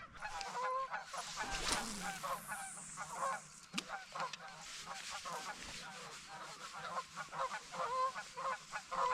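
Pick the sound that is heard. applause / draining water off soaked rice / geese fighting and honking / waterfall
geese fighting and honking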